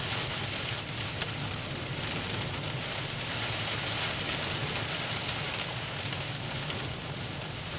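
Hail and rain drum steadily on a storm-chasing vehicle during a Kansas severe storm, a dense, continuous patter with a low rumble beneath, loud and close throughout with no talk.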